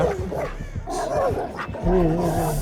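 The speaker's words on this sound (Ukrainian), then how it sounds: "Убери свою собаку і на поводок його посади." A hound in a chase video game barks, yips and whimpers at close range, with loud, uneven bursts and a low growl running underneath.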